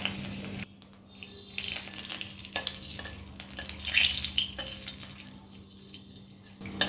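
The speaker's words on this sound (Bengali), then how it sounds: "হাই ফ্লেমে 30 থেকে 40 সেকেন্ড ভেজে নেব" Whole cumin seeds and two bay leaves crackle in hot oil over high flame, a continuous close sizzle with faint clicks and a slight swell in intensity midway.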